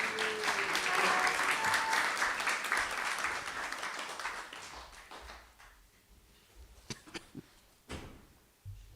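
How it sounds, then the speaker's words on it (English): Temple audience applauding after a Sunday feast lecture: a broad burst of clapping that swells early, then thins and fades out, leaving a few scattered knocks and thumps near the end. "let's give a round of applause for Gita Mataji for a wonderful class"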